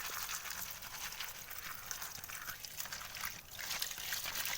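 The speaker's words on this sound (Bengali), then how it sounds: "এইগুলোকে এবার একটু জল দিয়ে ধুয়ে নেব।" Water running over summer cucumber seeds being washed, a faint, steady, hissing trickle that continues without a break at a low level.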